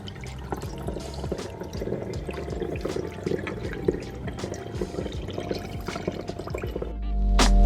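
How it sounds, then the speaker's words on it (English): Homemade eucalyptus and lavender all-purpose cleaner pours steadily through a funnel with a continuous trickling splash, close up, ending with a brief thump and gurgle. "using my funnel, I'm gonna go ahead and pour everything in"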